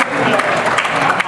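Audience applause fills a conference general session, dense steady clapping from a crowd with voices mixed in throughout.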